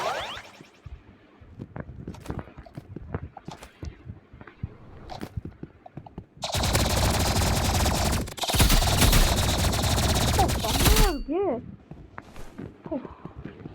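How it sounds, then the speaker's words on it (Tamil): Rapid automatic gunfire from a gun in the Roblox-style shooter Rivals, a dense sustained burst lasting several seconds, loud and continuous, preceded by someone talking over game sounds. "இது யூஸ் பண்ண இந்த கன் யூஸ் பண்ணலாம்."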